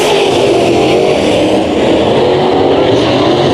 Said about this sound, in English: Green flag is in the air. We are dash racing the modifieds.